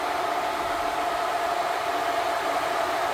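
Pickup truck engine running hard with its intake sucking air, a steady close broadband roar with a faint whine and no pauses, no talk.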